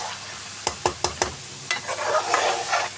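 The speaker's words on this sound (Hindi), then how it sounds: "अब देखिए अंडों को भी हमने आलूओं के साथ थोड़ा सा इसकी बुनाई करनी है, ताकि जो अंडों में भी फ्लेवर आ जाए सारे नमक मिर्च मसालों का।" Potatoes and eggs sizzle as they fry in salt, chili and spices, with four quick scrapes of a spoon stirring against the pan and then a busier run of stirring over the continuous crackle.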